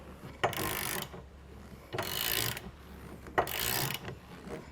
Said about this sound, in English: going to take our 9/16 socket and we're going to use that on the nuts on the U-bolt